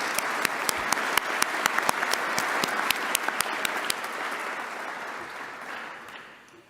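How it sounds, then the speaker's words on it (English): Audience applause at the 2025 Global Pluralism Award Ceremony, a dense, steady burst of clapping from a large crowd with sharp individual claps standing out, holding level for several seconds before fading away. "Perhaps we could give them a round of applause."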